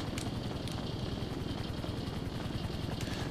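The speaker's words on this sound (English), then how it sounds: "They're getting on the darned helicopter anyway." A helicopter in the video game GTA 5 Online makes a loud, steady rotor thrum with a rapid, regular chopping pulse. It runs unbroken throughout, with no voices.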